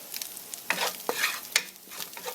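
Garlic browns in a pan holding drippings, on its way to a creamy garlic sauce for lobster and shrimp linguine, making a soft sizzle broken by several sharp spoon scrapes and clanks against the pan, with no voices.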